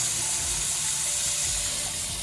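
A pump pushes water through a pondless waterfall setup, giving a steady, even rush of running, splashing water close by for the whole stretch, with no talk over it.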